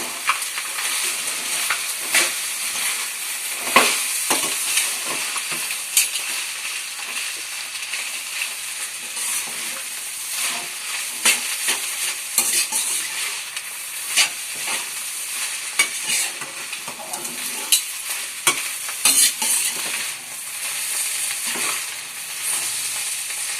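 Noodles being stirred and fried in a pan, a steady loud sizzle with constant scraping and tossing strokes running throughout, close up and with no talking.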